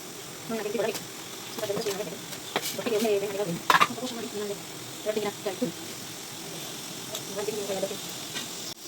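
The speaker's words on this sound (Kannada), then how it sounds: "ಇಲ್ಲಿ ಬಸಳೆ ಬೇಯ್ತಾ ಉಂಟು ನೋಡಿ ಸೌಂಡ್ ಬರ್ತಾ ಉಂಟು" Basale (Malabar spinach) pundi steam-cooks in a closed pot, giving off a soft hiss and sizzle with scattered bubbling pops. A person talks throughout, close by.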